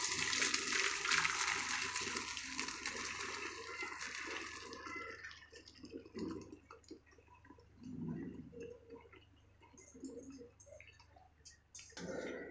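Water pouring and gushing as cooked rice mixed with beans and carrots is drained, a loud rushing stream that thins into trickles and drips, close and without voices.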